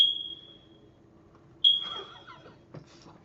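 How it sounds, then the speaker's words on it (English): A smoke alarm's low-battery chirp: a single high electronic chirp, then another a moment later, each a short piercing beep over a quiet room with faint background noise. "go change the battery on the smoke alarm"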